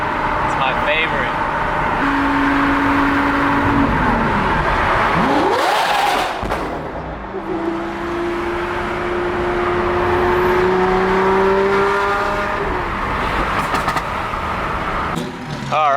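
A Lamborghini Aventador SVJ's V12 screams loudly and steadily from inside the cabin during a ride-along, with rising revs, shifts, and a brief drop before pulling hard again; voices talk over it.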